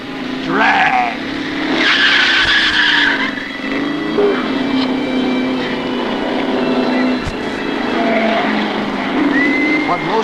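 1960s drag racing cars roar close by at full throttle, with long, loud tire squeals and skidding sweeping up and down over a constant engine drone. A voice can be heard faintly in the mix.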